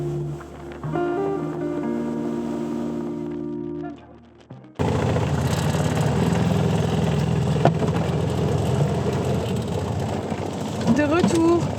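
A small boat's engine roars loudly and steadily after a brief quieter stretch with tonal humming, a harsh continuous motor noise with splashing, while people talk over it.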